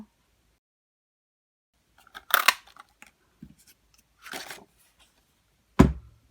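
A handheld craft punch, a starburst punch and a 1 1/4 inch circle punch, cutting through paper for a Father's Day treat tote: a few separate crunchy snaps and crisp clicks spaced apart, close and fairly loud in a quiet room.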